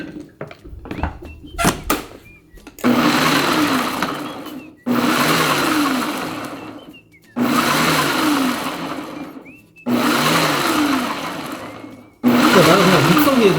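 An electric blender chops chili peppers in five short bursts of a few seconds each, the motor whirring loudly and then stopping between pulses, with faint clicks and handling noises before the first burst.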